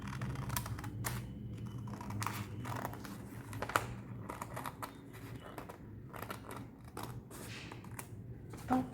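Scissors snip through a paper saree blouse pattern at the neckline, giving quiet, irregular crisp clicks and paper rustle over a low background hum.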